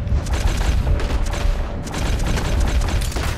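Gunfire during a bank robbery shootout in Red Dead Redemption 2, with dense, repeated shots and booms rolling over continuous mechanical clatter, loud and busy throughout with no clear pauses.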